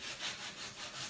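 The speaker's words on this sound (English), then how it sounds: "I'm going to just keep sanding." Sandpaper rubbing back and forth over a painted wooden Christmas sign, a quiet rhythmic scratchy swishing in repeated strokes, close and alone.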